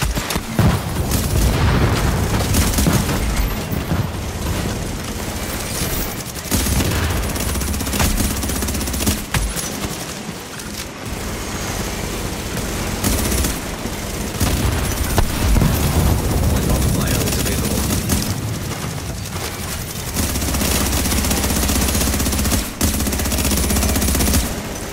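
Loud, sustained gunfire and heavy booms in The Division while a fortification comes under attack: dense bursts of automatic fire with explosions and an aircraft-like rumble, fairly close and continuous across the whole stretch.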